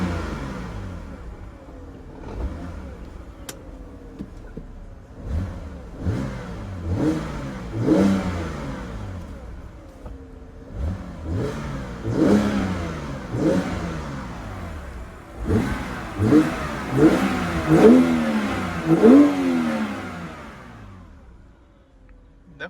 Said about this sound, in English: Let me get a few revs for you guys so you can hear it.